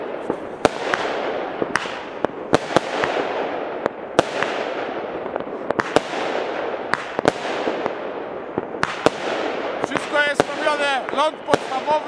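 A CBŚ-ka firework battery fires in a rapid series of sharp, loud cracks and bangs over a dense crackling roar outdoors, with shrill whistles rising near the end.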